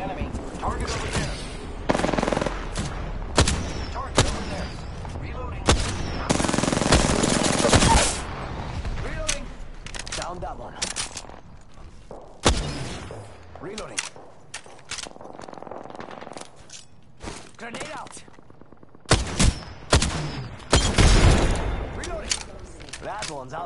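Gunfire in a squad-based video game match: repeated loud bursts of automatic fire with single sharp shots scattered between them, mixed with quieter action sounds and brief pauses.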